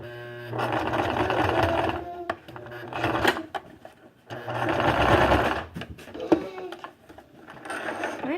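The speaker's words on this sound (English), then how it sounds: "You're going to put it right back on your sewing machine" A sewing machine stitching baby leggings runs in bursts, loud and close, with rapid mechanical whirring that stops and restarts between pauses and small handling clicks.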